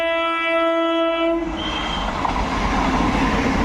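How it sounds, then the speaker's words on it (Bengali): A Lalgola–Sealdah MEMU passenger train sounds a long, steady horn near Murshidabad, then rumbles past loudly and close with a continuous rolling roar. "সামনে দেখতেই পাচ্ছেন লালগোলা লাইন থেকে একদম শিয়াল শিয়ালদার উদ্দেশ্যে লালগোলা মেমু ছুটছে"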